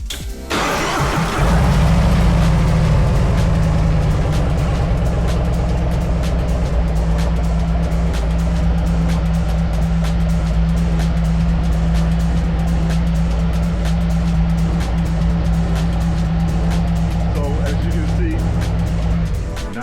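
A 2024 Harley-Davidson Road Glide fitted with a new aftermarket exhaust starts up and settles into a loud, deep, close rumble. The V-twin note stays steady and throbbing for the rest of the clip.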